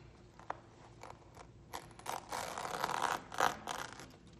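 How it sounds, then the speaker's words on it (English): Vinyl masking being peeled off a Pikachu painting gives a run of dry crackling, tearing rasps, sparse at first, then denser and louder near the end, close up with no talk. "we get to peel off that last bit of vinyl on there."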